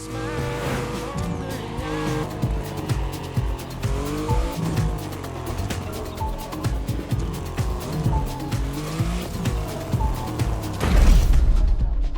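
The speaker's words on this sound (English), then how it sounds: "you'll get to drive yet another extremely powerful car" A powerful Mercedes car in The Crew Motorfest racing game revs hard through repeated gear shifts, with engine drone and tire squeals. The sound is loud and close, and a heavy burst comes near the end.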